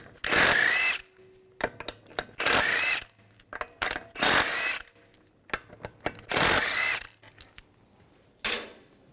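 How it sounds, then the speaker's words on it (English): A power tool spins a 17mm socket to remove lug bolts from a front wheel of a 2006-2010 BMW 550i, giving loud repeated bursts of whirring and rattling, about five long runs separated by short pauses and clicks. "Use a 17mm socket to take the lug bolts out."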